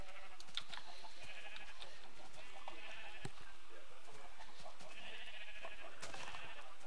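Sheep bleating in Minecraft, several repeated nasal bleats standing out over a quiet game background, with no talk.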